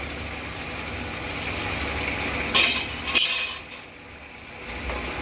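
Spices tipped into a pan of mutton that has been frying with onions, a close clatter of utensil on pan with a brief burst of sizzle and scraping mid-way, otherwise a steady low frying hiss.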